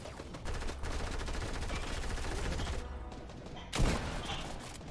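Rapid bursts of gunfire rattle continuously in a game, with a louder shot near the end; dense and close, no clear talking.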